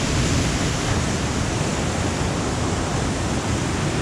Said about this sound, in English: but the waves here are just absolutely beautiful.